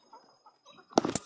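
A rooster kept with backyard chickens gives a few soft low clucks, then a louder burst of close clucking squawks near the end, with no talk over it.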